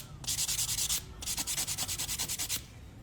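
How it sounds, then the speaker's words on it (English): Buffer block rubbed quickly back and forth over an acrylic nail to smooth out 180 grit scratches, a soft rhythmic scrubbing in two bursts with a short pause between, close and with no talk. "I'm just taking my buffer block. And again, this buffer block is now smoothing out the scratches from the 180 grit"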